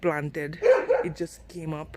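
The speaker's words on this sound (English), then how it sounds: "Okay, that's my dog." A pet dog barks and yips close by in a garden, short sharp bursts overlapping a person talking.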